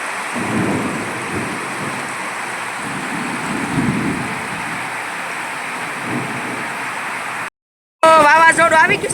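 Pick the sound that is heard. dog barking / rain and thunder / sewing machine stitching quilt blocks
rain and thunder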